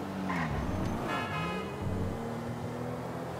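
A car in a video game races at speed, its engine droning and rising in pitch, with a brief horn-like toot mixed into the steady road noise.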